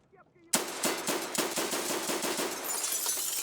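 Rapid automatic gunfire in Escape from Tarkov breaks out after a short quiet moment and keeps hammering as a close, loud, evenly spaced burst of a dozen or so shots.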